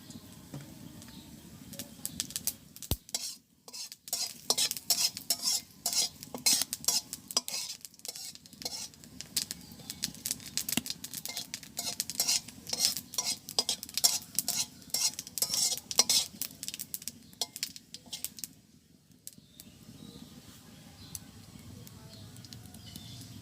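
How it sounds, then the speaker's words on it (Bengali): Cumin seeds fry in hot oil over a village cooking fire, giving quiet, uneven bursts of crackling and popping with light utensil scrapes, followed by a brief lull before the crackle returns. "কয়েকটা জিরা পোড়াই রাখবো, তো দিয়ে দিচ্ছি জিরা। তেল দিয়ে দিলাম।"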